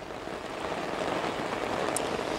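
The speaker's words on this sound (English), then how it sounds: "they've picked up again just in the last few minutes, along with heavy rain here in Corinda" Heavy rain falls steadily in Corinda, Queensland during gusty stormy weather, a dense, continuous hiss of drops on surfaces with no voices.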